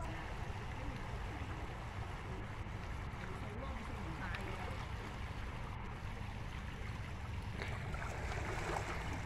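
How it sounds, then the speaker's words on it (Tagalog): Ocean waves washing onto Kaplong Beach at Shap Long on Lantau, Hong Kong, a constant dense roar of surf with soft surges and faint background murmurs. "Tambayan muna natin tong alon dito. Nakaka-relax kasi yung sounds niya."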